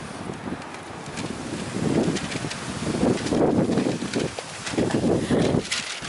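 Strong outdoor wind rushes and buffets the microphone in surging gusts, loud and continuous with rumbling swells, no talk.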